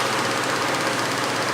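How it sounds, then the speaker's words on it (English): A Jaguar E-type engine, fed starting fluid through the carburetor, gives a brief, loud, rough churning roar with a steady dense hiss. "I'm going to shoot a little bit of the starting fluid in the carburetor, and we'll see if it wants to try to start"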